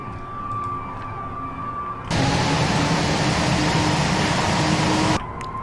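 Airbus A340 engines whine while taxiing in the Prepar3D flight simulator, a steady noisy roar that jumps sharply louder for about three seconds before dropping back, with no talking.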